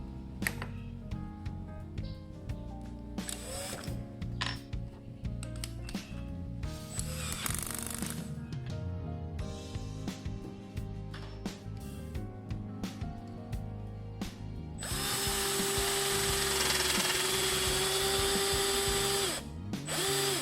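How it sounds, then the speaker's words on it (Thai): A drill press boring holes with an Amana AMS-306 countersink bit, a loud, close whirring spin in several bursts with pauses and mechanical clicks between, ending in one long sustained run. "แต่เดี๋ยวผมจะใช้สว่านแท่นนะ ครับ เริ่มแรกเดี๋ยวเราก็จะมา เจาะ"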